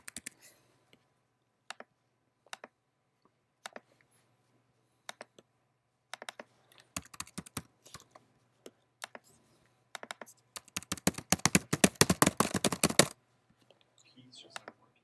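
Typing on a computer keyboard during a lecture: scattered single key clicks at first, then a dense, fast burst of keystrokes before it stops, with no talk.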